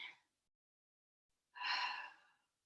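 Deep breathing during a mat Pilates exercise: the tail of one breath, then a long pause, then a single strong airy exhale or inhale lasting about a second, close and alone with no talk.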